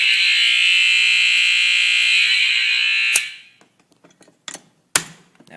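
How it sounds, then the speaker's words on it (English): A church fire alarm system set off from a pull station blares as a loud, continuous, close alarm for about three seconds, then cuts out, leaving a few sharp knocks and clanks in a quiet room. "We are testing the fire alarms at my grandparent's church"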